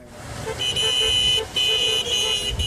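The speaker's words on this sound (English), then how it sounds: "the convoy left Hungary at Sopron, during which they honked their car horns" Car horns in a departing convoy honk near Sopron, Hungary, in loud sustained blasts with brief gaps between them, over faint road noise and no talk.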